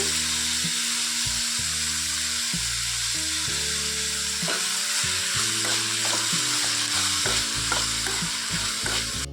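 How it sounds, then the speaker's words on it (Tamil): Tomatoes and onions frying in a pan with a constant sizzle, broken by repeated scraping and stirring strokes in an uneven rhythm, close and steady with no talk. "தக்காளி போட்டுக்கலாம் தக்காளி கொஞ்ச நேரம் நல்லா வணங்கட்டும்"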